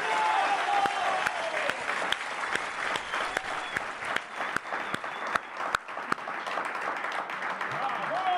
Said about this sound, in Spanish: vamos a arrancar con una ronda de aplausos